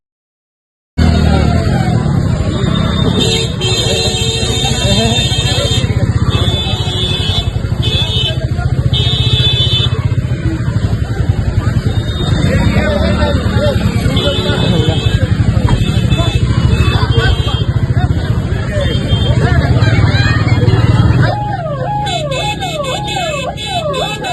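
A motorcycle rides off through a noisy protest crowd and street traffic in Begusarai. Its engine is buried under loud, constant shouting and talk, and a wailing siren rises near the end.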